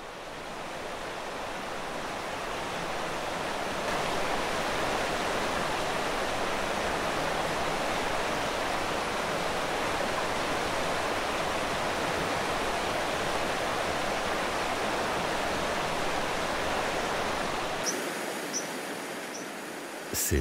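Steady, loud rush of a fast-flowing alpine mountain torrent, a constant roaring stream that continues unbroken throughout.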